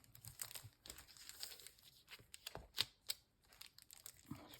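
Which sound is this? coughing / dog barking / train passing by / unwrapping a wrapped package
unwrapping a wrapped package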